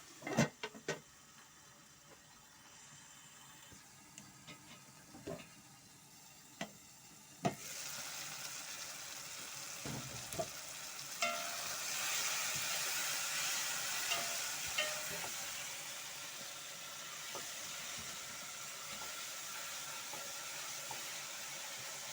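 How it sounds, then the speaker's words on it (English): Tomatoes cook in a pot with a soft, steady sizzle, punctuated early by a few sharp stirring knocks and scrapes, then settling into a louder continuous bubbling hiss, close by. "We continue by stirring. And let our nyanya cook."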